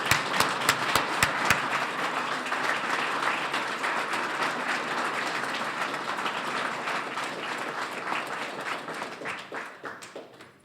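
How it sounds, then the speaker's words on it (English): An audience applauds WWII fighter pilot Robert 'Smokey' Vrilakas: a few sharp early claps swell into dense, sustained clapping that holds for several seconds, then thins and fades out. "please join me in a grateful round of applause for Bob Smokey"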